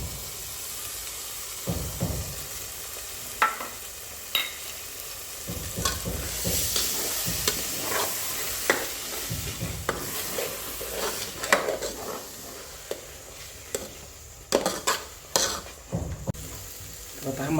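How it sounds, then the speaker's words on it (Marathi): Wet coconut masala roasts in a pan for kat vada, with soft sizzling and repeated scraping stirs of a spatula close up. "आता हा मसाला भाजून घेतलेला आहे।"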